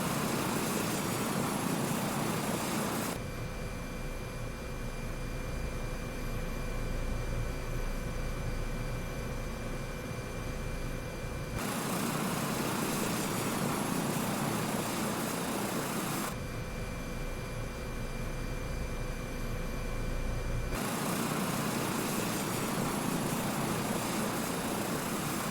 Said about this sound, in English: Slowly getting that airspeed up. It's not a bad helicopter actually.